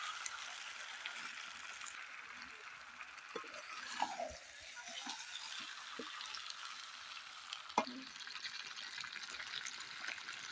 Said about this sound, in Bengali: এখানে সব মাংস দিয়ে দিয়েছি, ভালো করে কষিয়ে নেব